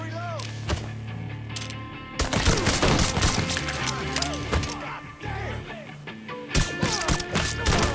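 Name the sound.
gunfire in Mafia III video game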